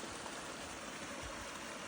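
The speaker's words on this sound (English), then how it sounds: "Just a little waterfall hidden back in there." A small waterfall hidden in woodland near a river, heard as a faint, steady wash of flowing water from some distance away, continuous and without voices.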